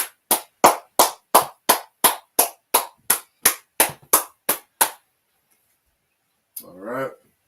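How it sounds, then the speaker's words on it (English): A single person claps steadily at the close of a class, about fifteen sharp, evenly spaced claps, followed by a pause and a brief spoken voice. "Let's clap it up."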